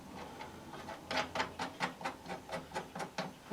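Hand screws are turned into a computer cooler mount, giving a regular series of soft ratcheting scrapes about every quarter second, close by and moderately quiet.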